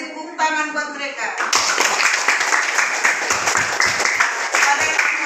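Schoolchildren in a primary classroom clap for a group; after a brief stretch of a voice, loud, brisk clapping breaks out and continues with a quick, slightly rhythmic pattern close by.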